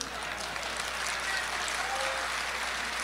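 Audience applause at a mushaira poetry gathering, a dense, even wash of clapping from a crowd that holds steady for a few seconds without any speech.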